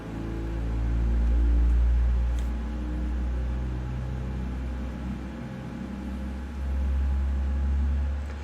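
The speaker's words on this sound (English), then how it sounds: "Is it just me, or is that engine start sound like completely new?" Boeing 787-9 engine spooling up in a flight simulator: a steady low rumbling whine, loud and close, swelling and easing in waves with no talking over it.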